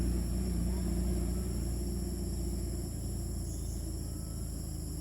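Steady low rumble of heavy lorries passing close by on the road, with a constant engine drone and faint high whine throughout.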